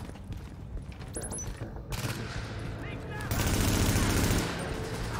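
Automatic gunfire from Tom Clancy's The Division, with loud sustained bursts that grow heavier toward the end and a brief high electronic tone early on.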